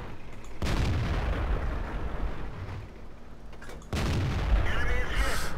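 Tank cannon shots in World of Tanks, a Spahpanzer SP 1 C, land as two heavy booming blasts with rumbling tails, the second followed by clanking mechanical noise, under faint commentary.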